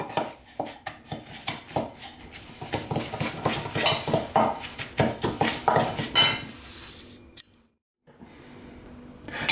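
A spoon scrapes and taps around a bowl while stirring white chocolate with mascarpone, a steady clinking and scraping rhythm that fades to near silence at the end.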